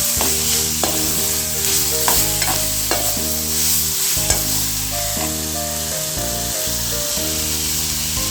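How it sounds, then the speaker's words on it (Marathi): Onion and tomato for a sprouted green moong curry are sautéed in a pan, with a steady sizzle and occasional stirring scrapes under a loud musical background. "आता हे व्यवस्थित परतून घ्यायचं आहे"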